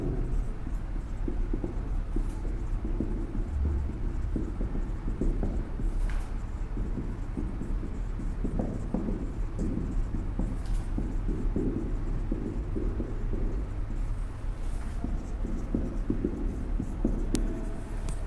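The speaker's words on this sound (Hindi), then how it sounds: "मैं यहाँ पर लिख भी देता हूँ आपके" Steady scratching and tapping of a teacher writing on a board in a physics classroom, continuous and fairly close over a constant background hum, without talk.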